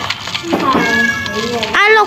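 A pet cat meows close and loud, one drawn-out meow followed by a brief second call, with a person talking softly around it.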